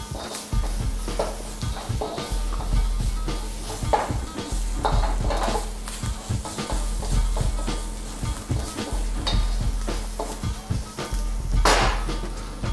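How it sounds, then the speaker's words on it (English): Spices being stirred into onions and garlic for a Chettinad shrimp dish, with a steady sizzle and repeated scraping and knocking of the spoon against the pan, close and fairly loud. "we'll work these spices into the mix. Make sure they're blended with our onions and garlic."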